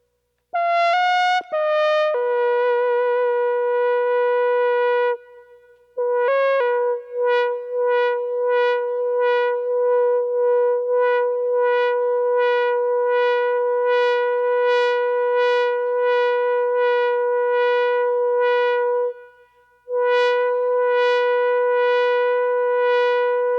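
Roland AE-30 wind synthesizer playing a recorder-like patch, pure breathy tones in a slow melodic line of sustained and repeated notes, clear and solo with short pauses between phrases.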